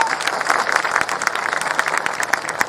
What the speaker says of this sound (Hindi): सही है तो तालियों की गड़गड़ाहट से